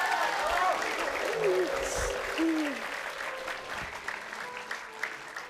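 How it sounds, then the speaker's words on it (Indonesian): Studio audience applause for a contestant named Rohim on an Indonesian TV cooking and game show, a steady broad wash of clapping lasting several seconds with whistles and a voice briefly over it. "Tepuk tangan sekali lagi untuk Rohim"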